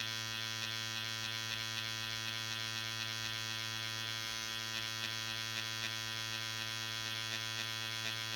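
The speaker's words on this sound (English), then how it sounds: "lower the needle 90 degrees and quickly strike the skin" A permanent makeup machine drives its needle against skin for powder brows, a close, steady electric buzz with a constant hum and faint rapid ticking, no voices.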